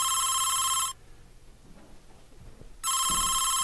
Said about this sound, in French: Le combiné carillonne